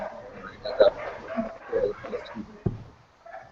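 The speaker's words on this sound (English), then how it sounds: "like kennel of dogs freaking out" A kennel of dogs bark and yip in scattered overlapping bursts, mixed in with muffled background talk and noise at moderate volume.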